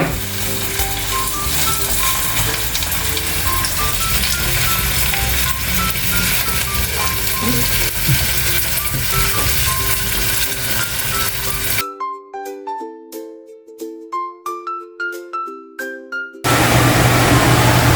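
Onions and garlic frying in a pan for squid adobo, a loud steady sizzle for most of the stretch, then brief clinks and scraping stirs before the sizzle returns.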